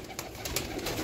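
Pigeons give low, soft cooing calls close by, with faint flutters and ticks mixed into the quiet background.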